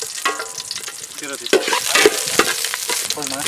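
Green chilies frying in oil with cinnamon, cardamom and cloves for a rabbit curry, a steady close sizzle with stirring clatter, brightening partway through as fresh pieces hit the pan.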